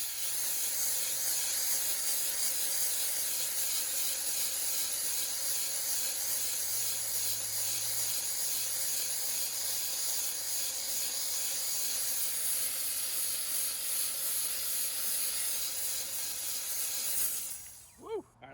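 Steamer blasting carbon fiber wheel barrels on a Shelby GT350R and GT500, a loud, continuous close hiss of steam that cuts off abruptly near the end.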